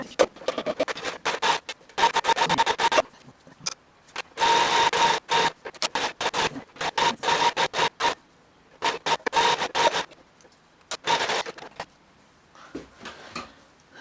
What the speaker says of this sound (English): so I'm just going to stitch it going all the way around, a very close stitch, going all the way around